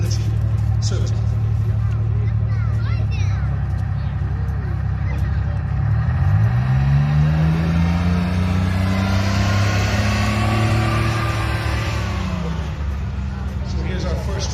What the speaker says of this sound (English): So here's our first track vehicle.